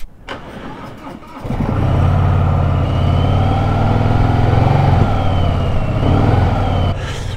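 A Harley-Davidson M8 Softail motorcycle engine cranks and fires up after a few clicks, then settles into a loud, steady near idle with a rattling, hollow rasp continuing alone to the end.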